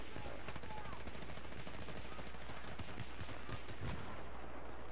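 Rapid gunfire in a Battlefield 3 team deathmatch online match, dense bursts crackling over a steady low rumble, with a few sharper close shots; faint voices are mixed in.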